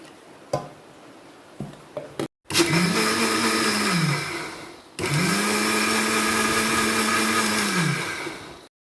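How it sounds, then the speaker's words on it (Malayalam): A mixer grinder jar blends a cooled dessert mixture in two loud sustained runs, each rising and dropping in pitch, after a few short clicks and taps at the start; no one speaks. "മിക്സിയുടെ ജാറിൽ ഒഴിച്ച് അടിച്ചെടുക്കാം."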